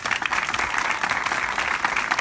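Audience ovation for Nilde Pérez de Palma, honored as a distinguished teacher of Progreso at a city hall ceremony: dense, steady clapping from a crowd, sustained throughout without pause.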